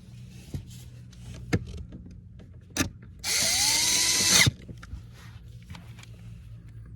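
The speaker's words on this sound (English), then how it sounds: "Now we can put the screws back in." Power drill driving trim screws back into a Porsche Panamera cabin, one short whirring burst of just over a second, close, among a few light clicks and taps with no talk.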